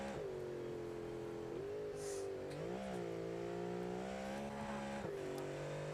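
A race car engine in a Le Mans racing video game holds a steady, loud drone, its pitch sliding up and down through gear shifts with no talking over it.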